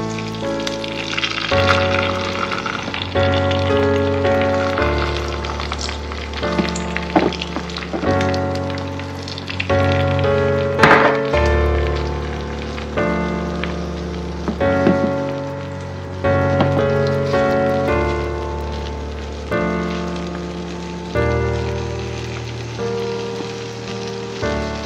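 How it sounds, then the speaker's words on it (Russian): Rainbow egg roll mixture fries in a pan coated with vegetable oil over low heat, giving a soft, continuous sizzle that sits under louder background music throughout. "И будем на медленном огне жарить"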